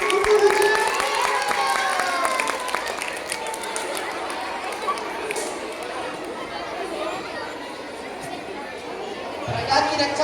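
An audience at a school Diwali celebration of student performances claps in a dense patter that fades after a few seconds, with voices and crowd chatter running through it.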